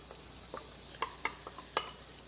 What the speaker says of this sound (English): in goes the whole can of tomatoes, and in goes your drained and rinsed chickpeas